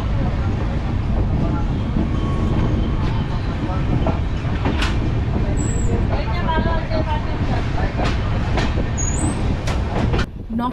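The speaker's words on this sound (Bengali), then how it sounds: "এই এবার ট্রেন ছেড়ে দিল।" The Kanchan Kanya Express pulls out of Naxalbari station on the way to the Dooars, a steady loud rumble of the train with rhythmic wheel clicks and some higher squeals, heard from on board throughout.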